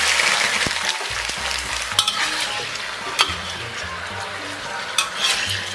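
Pig tails hit hot caramelized rock sugar and oil in a wok, giving a steady close sizzle broken by a few sharp metal spatula clanks against the pan.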